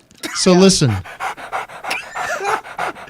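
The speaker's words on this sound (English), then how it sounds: "Sorry, that's my dog." A dog pants rapidly and repeatedly, close and fairly loud, right under a man's speech and other voices in a lively indoor setting.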